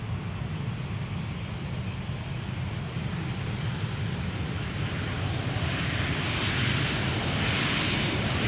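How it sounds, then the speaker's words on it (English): A 22-year-old British Airways Airbus A320, Speedbird 2540 from London Gatwick, arriving at Amsterdam Schiphol: a steady, fairly faint broadband engine roar that swells slightly toward the end, with no talk. "Speedbird flight 2540. Arriving from London Gatwick."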